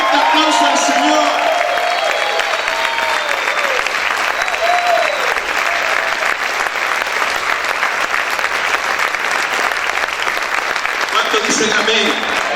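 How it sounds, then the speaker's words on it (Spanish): A church congregation breaks into sustained applause, a dense wash of many hands clapping steadily for several seconds, with a few cheers at the start and a voice near the end as the clapping fades. "Dale ese fuerte aplauso al Señor."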